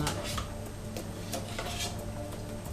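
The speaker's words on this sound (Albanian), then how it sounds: "Ka ardhur momenti për të hedhur në tigan." Pasta goes into a frying pan with chicken. Metal pan and utensil clatter sound in a string of quick, close knocks and scrapes over a steady low kitchen hum.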